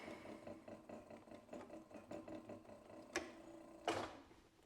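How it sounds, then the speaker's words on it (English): A sewing machine back stitching a leather tote, a fast steady mechanical whirr and ticking of the needle, fairly quiet and close, ending with a couple of sharper clunks as the stitching stops. "I'll just back stitch here probably"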